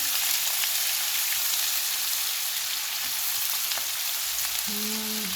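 Half a cup of medium-sized chopped onion fries in a pan with garlic for Chinese fried rice, giving a steady, dense close sizzle that continues evenly throughout.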